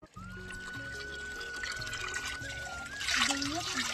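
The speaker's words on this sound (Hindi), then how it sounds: "तो यहाँ पे आता है पानी, और यहाँ से पानी भर के" Water runs steadily into a lota vessel at a village temple tap during the first Monday of Sawan, a continuous close splashing fill that rises slightly in pitch and intensity near the end, with faint background tones.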